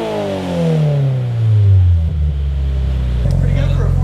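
A 2022 Subaru BRZ four-cylinder fitted with an Invidia N2 catback exhaust drops from a high rev, its pitch sliding down steadily into a loud, deep rumbling idle that settles and continues to the end.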